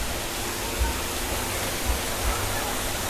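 Water from a waterfall pouring into a fish pond at a cafe makes a steady, even rushing hiss that fills the scene, with a few soft low thumps.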